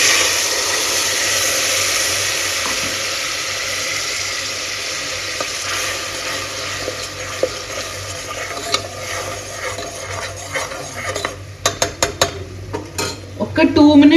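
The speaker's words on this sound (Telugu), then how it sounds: "అలాగే మనం మిక్సీ పట్టుకున్న పేస్ట్ కూడా వేస్తాను." Ground masala paste frying in a pot for village-style spicy mutton soup, a continuous loud sizzle that thins out toward the end, where sharp spoon scrapes and clinks against the pot take over; no speech.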